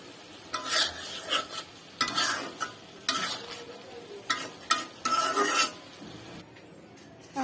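Small maya fish are added to a pan and stirred into a thick onion gravy, with bursts of spoon-scraping strokes over a soft sizzle and short pauses between them.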